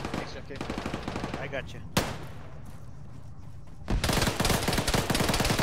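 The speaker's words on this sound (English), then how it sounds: "Frag out east." Frag grenade blast in the Arma video game, a sudden sharp burst standing out amid continuous heavy gunfire, with a voice speaking briefly over the combat noise.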